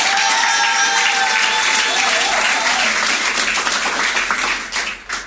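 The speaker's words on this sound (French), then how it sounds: "Applaudissez très très fort." Guests at a civil wedding ceremony break into loud, sustained applause for the couple, close and full before it tapers off near the end, with faint voices mixed in.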